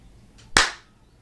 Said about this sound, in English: I will put a simple clap here